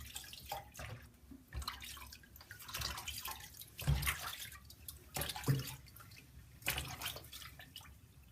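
Water with apple cider vinegar being rinsed through hair, soft irregular splashes and drips close by, fairly quiet with no talking.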